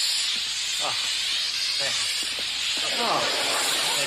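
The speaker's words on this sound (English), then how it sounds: "I'll just spray a little insecticide." A steady, loud insecticide spray can hiss fills the whole stretch without a break, with a voice faintly talking underneath.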